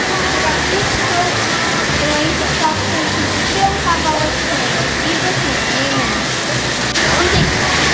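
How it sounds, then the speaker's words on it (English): A shower runs in a bathroom as a steady, loud hiss of falling water, constant for the whole stretch, with faint low voices murmuring underneath. "I'm taking a shower right now."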